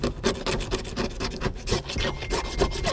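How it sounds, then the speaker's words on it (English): A razor blade knife scrapes leftover tint adhesive off a car window in close, rhythmic back-and-forth strokes, loud and gritty with no talking. "you'll just kind of start scraping down the whole window"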